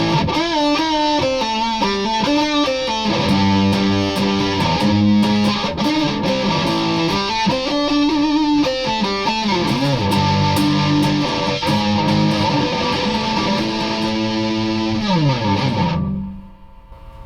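Les Paul copy electric guitar on its neck pickup through a Behringer Ultra Metal distortion pedal, a loud, thick, saturated tone playing riffs and held chords that slide between notes, ending with a final chord that cuts off abruptly.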